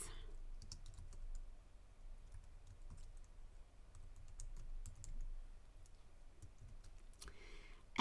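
Light clicking from a computer keyboard types a short phrase as a few quick irregular keystrokes over a low room hum, close but soft, with no voices.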